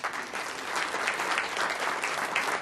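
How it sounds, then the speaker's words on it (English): An audience claps steadily throughout, dense and sustained applause at moderate loudness with no pauses, ringing through a meeting room during a chapter advocate report. "and I want to applaud them"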